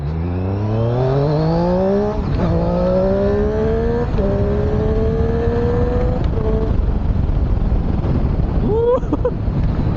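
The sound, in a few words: Triumph Street Triple R 765 motorcycle engine while cornering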